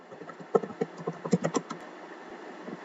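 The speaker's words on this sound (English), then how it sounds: "Let's log into that thing by typing enable." Short burst of keystrokes on a computer keyboard as a command is entered at a network switch console, a dozen or so clicks in an uneven rhythm, close and fairly quiet, with no talking.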